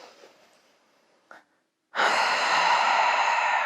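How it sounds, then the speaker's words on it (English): Nasal breathing during a yoga breath-work session: a faint soft exhale fades out, a brief catch of breath, a pause, then a loud, steady, close rush of air through the nose with no talking. "Coming into your breath, inhaling and exhaling through the nose."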